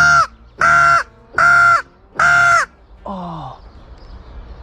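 A crow caws four times, loud, close and evenly spaced, then gives a softer, lower, drawn-out call before falling quiet, out in farm fields during crop protection.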